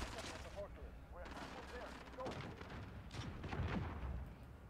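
Turret gunfire in Call of Duty Modern Warfare multiplayer, rapid bursts of shots and booms at moderate distance, mixed with other game noise and faint voices.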